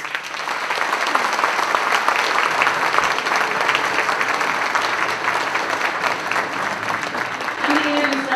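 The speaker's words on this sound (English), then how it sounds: "please, a round of applause." Dense, steady applause from a large event audience honoring a Sunshine Award winner, loud and sustained throughout with a faint voice near the end.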